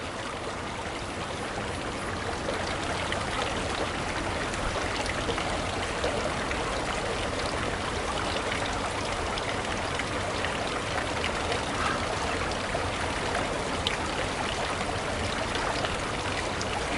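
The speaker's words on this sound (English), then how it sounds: "Here's where the creek begins to slow down again." Water in a woodland creek flows in a continuous, even babble and trickle at close range, with no voices over it.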